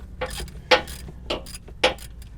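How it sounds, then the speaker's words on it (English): A hand ratchet loosens transmission pan bolts on a Ram 3500 with an Aisin transmission, giving four sharp, close clicking bursts spaced about half a second apart. "I'm loosening the first 16 bolts by hand here."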